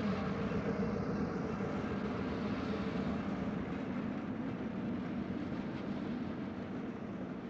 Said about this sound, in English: we run through WP's main yard and see trains from the cab and from trackside